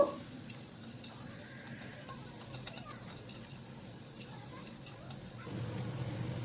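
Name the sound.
onions frying in oil with cardamom, bay leaf, cumin, dried chillies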